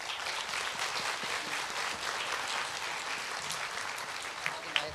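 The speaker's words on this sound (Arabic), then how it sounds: "أعطوها تصفيقة كبيرة كبيرة." Steady audience applause fills the room at a children's show for World Children's Rights Day, dense clapping continuing throughout with a few sharper claps standing out near the end.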